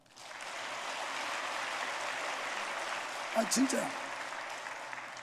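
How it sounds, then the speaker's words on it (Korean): A church congregation applauds the choir during a Sunday worship service, with broad, even clapping from many hands filling the room at moderate level. A voice speaks briefly near the end. "박수 한번 해줘요."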